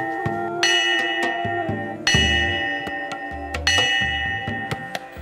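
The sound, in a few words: village temple bell rung in a special pattern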